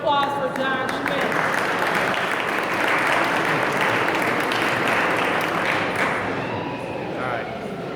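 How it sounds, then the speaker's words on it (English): A meeting audience breaks into steady applause that holds for several seconds before slowly thinning, with a few voices mixed into the clapping. "So let's give a round of applause for John Schmidt."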